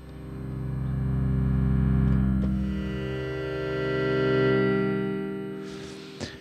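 Roland MV30 Studio M synthesizer pad sustained through a reverb effect, a loud, rich, steady harmonic tone swelling and fading over several seconds with a soft click near the end, no talking.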